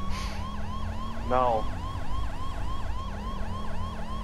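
A police car siren wails in the GTA V video game, a loud repeating electronic yelp cycling steadily, with a car engine underneath and a brief spoken word.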